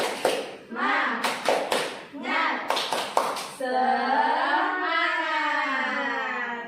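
Children in a classroom performing the tepuk semangat, a rhythmic patterned hand clap in quick bursts interleaved with chanted voices, ending in a sustained group shout.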